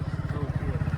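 Motorbike carrying two riders on a hot road, its engine giving a rapid, even low thrum that pulses steadily for the whole second, close and moderately loud.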